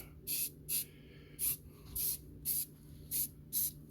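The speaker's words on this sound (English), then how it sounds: "So I'm putting a little primer on it." A spray can of gray primer coats a sanded wheelbarrow part in eight short, crisp hissing bursts at a fairly regular rhythm, close by over a quiet low hum.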